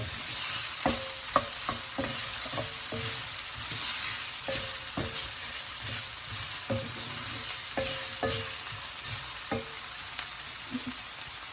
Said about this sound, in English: And I'm going to add onions, chopped onions.